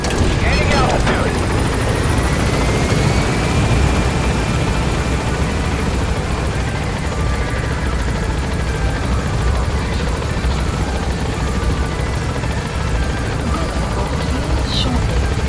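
Helicopter in Metal Gear Solid V climbing as it gains altitude, a loud steady rotor and engine roar filling the whole stretch, with faint game voices over it.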